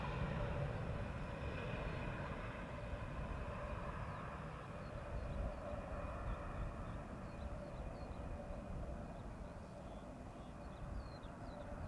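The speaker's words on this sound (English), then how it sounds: "Now there's an E2 Embraer coming this way" An Embraer E2 jet approaching Amsterdam Schiphol, a distant steady engine rumble and whine that holds evenly and fades slightly over time, with no talking.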